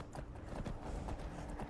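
Horse hooves galloping in the Skyrim video game, a quick, faint, steady clopping rhythm lasting under two seconds, with no talking.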